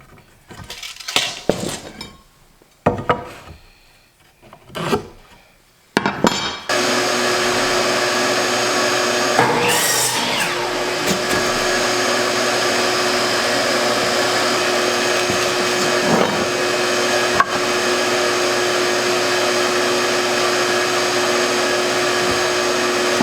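Wood pieces for a folding BBQ prep table are handled with a few sharp knocks and clatters, then a power saw starts and runs with a loud, steady whine that carries on for many seconds, changing slightly as it cuts.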